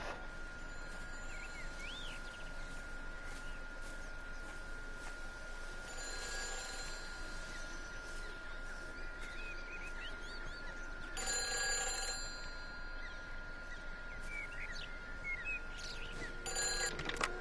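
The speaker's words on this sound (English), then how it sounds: "Your phone ringing. It's gotta be that very red booth." Red phone booth telephone ringing in the video game Everybody's Gone to the Rapture, a repeated electronic ring heard at moderate distance over a soft ambient bed with faint chirps.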